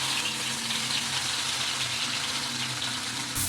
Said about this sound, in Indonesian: Masukin bumbunya, tumis sampai dia wangi